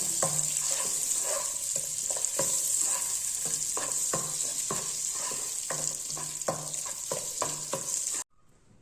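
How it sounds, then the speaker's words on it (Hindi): Vermicelli for sheer khurma roasts in butter on low heat, with a steady soft sizzle and a regular rhythm of spoon taps and scrapes against the pan, ending abruptly near the close. "अब इसमें 1 चम्मच मक्खन का डाल देंगे और इसे भून लेंगे।"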